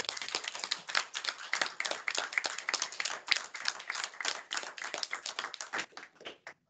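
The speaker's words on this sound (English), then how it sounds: "I see some hand clapping from our online guests" Scattered hand clapping at a business breakfast talk, quick uneven claps from a few people, fairly faint and close, tapering off toward the end.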